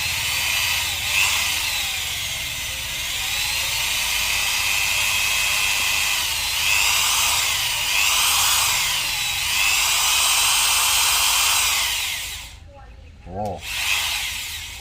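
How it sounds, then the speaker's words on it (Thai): An electric drill with a blunt bit whines steadily and loudly for about twelve seconds while drilling a hole in a rat trap cage, its pitch wavering as it bites, then stops abruptly and briefly restarts. "สว่านไม่ค่อยคมนะ ค่อยๆเจาะนะ"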